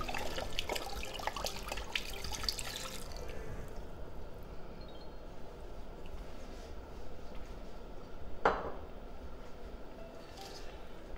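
Red wine poured into a hot pan of toasted goulash meat, a close, burst-like hiss and bubbling up front that settles into a low, steady simmer, with one sharp clink partway through.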